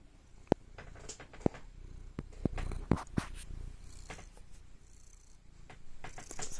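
A domestic cat purrs softly and continuously in extreme close-up, a low rumbling drone with a few sharp clicks and small handling noises scattered over it, near but quiet.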